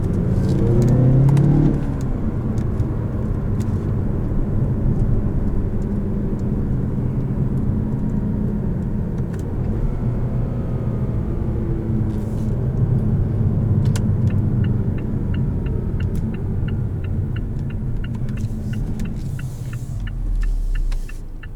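The engine of a 2018 Mazda6 revs hard and climbs in a sustained, loud, whirring build from inside the car, then eases off near the end.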